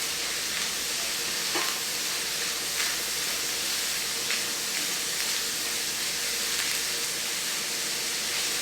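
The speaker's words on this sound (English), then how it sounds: "add those bell peppers. Both red and green, of course. Stir that on in." Red and green bell peppers hiss and sizzle in a hot pan in a dense, steady wash of frying noise, with a few faint scrapes of stirring.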